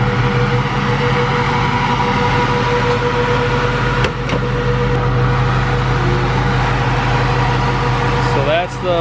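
An S10 drag truck with a stock 6-liter nitrous-equipped engine runs at a steady, loud idle nearby, a continuous deep drone with people talking over it.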